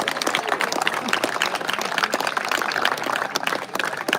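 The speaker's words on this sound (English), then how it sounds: "A big round of applause from the two brothers there" Crowd applause at an inclusion carnival opening ceremony, greeting two brothers after their performance, with brisk, continuous clapping from many people throughout, fairly close and lively.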